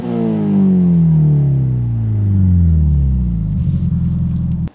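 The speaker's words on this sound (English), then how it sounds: "Another difference is that this car has equal length headers, so it doesn't sound like your typical Subaru rumble." A JDM Subaru WRX STI 2.0 with equal length headers revs up, its smooth rising engine tone sweeping loud and close, then dropping back and settling into a steady idle-like rumble.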